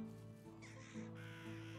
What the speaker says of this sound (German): Ja, das war eine Krähe.